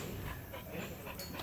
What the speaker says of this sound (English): my big dog was scared of that little dog